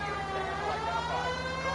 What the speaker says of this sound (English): Get your siren going